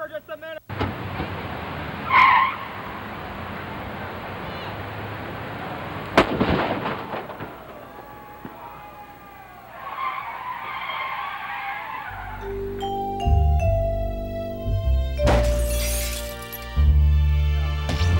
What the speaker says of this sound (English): Quite happy with the explosion.